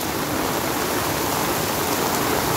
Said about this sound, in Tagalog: Sobrang lakas ng ulan. My gosh.